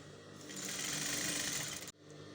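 Sewing machine stitching the facing of an ankara dress, a close, steady rapid whir that runs for over a second and then cuts off abruptly, with a quieter motor hum after.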